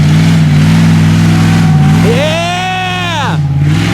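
Engine of a 2021 Polaris RS1 direct-drive 2000 cc UTV revving hard on a trail, a loud close drone climbing into a rising, then falling rev sweep with harmonics, alongside other engine noise.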